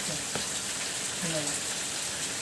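Steady rain hisses evenly throughout, a dense wash of falling drops with faint murmuring voices in the background, in a village.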